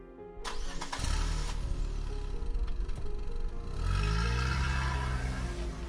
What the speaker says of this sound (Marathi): तसं जॅकने त्याची ऑर्डर पाळत गाडी सुरू केली